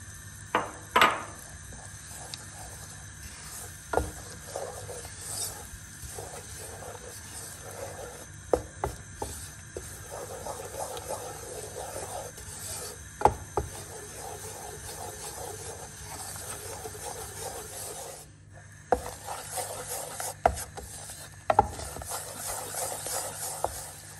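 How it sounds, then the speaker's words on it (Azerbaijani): A spoonful of flour toasting in a little oil in a pan for cream of vegetable soup: a soft, steady sizzle and hiss with scattered scraping stirs and occasional sharp taps of the spoon against the pan. "Bir dolu xörək qaşığı unu biraz yağda qovururuq."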